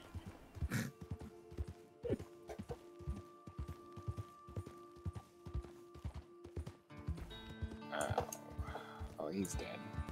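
Horse hooves clip-clop in a steady, rhythmic gait in the video game Red Dead Online. Game music sits under the hooves, and a voice talks over them.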